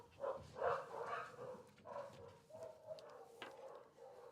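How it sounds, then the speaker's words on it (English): Dogs barking indoors somewhere in the background, faint and distant, in irregular bursts with no talking. "My dogs are going crazy."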